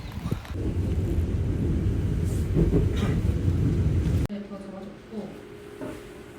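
Subway train riding with a continuous low rumble and rattling of the carriage for about four seconds, then an abrupt drop to a quieter interior with faint tones and voices.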